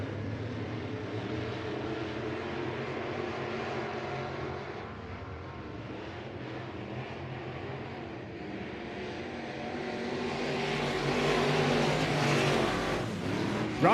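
Race cars roar around the Southern Oregon Speedway oval after the green flag, a continuous dense engine drone with several cars blending together, swelling louder near the end as the pack passes close.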